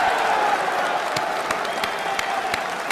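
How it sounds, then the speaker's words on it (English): Audience applause at a political dinner event, a steady dense wash of many hands clapping with sharper individual claps popping through, continuous and fairly loud for the whole stretch. "Can we give a round of applause for Russia?"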